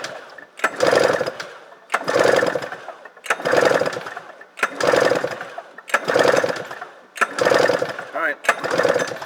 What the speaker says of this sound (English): So we'll do an engine compression test on this thing, and we'll start with the mag side first.